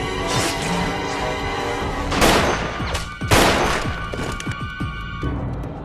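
Burst of gunfire in a Steven Seagal action movie shootout, with loud shots over continuous music and two heavy booming impacts near the middle.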